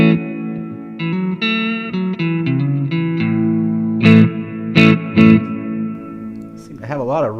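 Sustained electric guitar notes and chords through a Positive Grid Spark practice amp with a heavy reverb tail and some distortion, ending in a wobbling, warbling tone.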